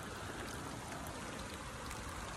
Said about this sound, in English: We've really got some rain.